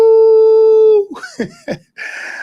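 A voice imitates a wolf howl with a loud, sustained pure tone held for about a second, then breaks into a few short, wavering vocal yelps and a brief low murmur.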